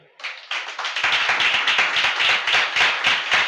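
A congregation claps hands in rhythm during a Sunday church service, steady quick claps from many people close and loud, with a faint voice at the start.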